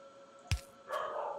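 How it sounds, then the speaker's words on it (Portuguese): A female dog gives one sharp, short bark that stands out above a quiet room hum, followed by a steadier background noise that rises and holds. "Cachorra tá doidona."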